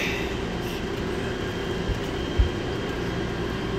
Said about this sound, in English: Please continue to hold on. The train will be moving momentarily.